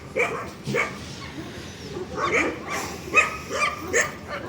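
A dog that had been waiting in a car barks repeatedly, about seven sharp barks and yips spaced unevenly over a few seconds, close by and fairly loud, with faint whimpering between them.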